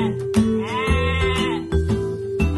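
A sheep bleats loudly and close by in a long, wavering call, with a few shorter bleats around it and nothing else competing.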